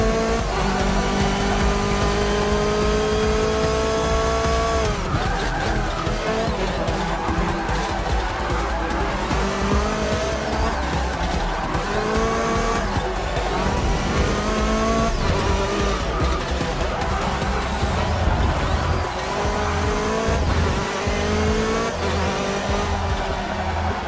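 Race car engine in Forza Motorsport 6 revs steadily and loudly, its pitch climbing and falling through gear changes, with tire squeal on the corners and faint talk underneath.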